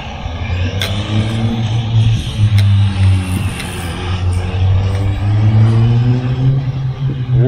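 A Tamiya TA02 radio-controlled car with an Opel body whirs and rises and falls in pitch as it accelerates and slows through corners, loud and close, with light ticks and no talking.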